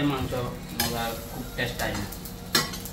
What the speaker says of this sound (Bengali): চুলাতে আমরা গোস্ত বসাই দিয়েছি। গোস্ত অলরেডি চলতেছে, পাক চলতেছে।